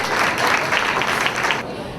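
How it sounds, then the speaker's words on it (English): Audience at a community society event applauding, a full burst of many hands clapping that swells and then cuts off near the end, with a quieter room tone remaining. "So give yourself a big round of applause."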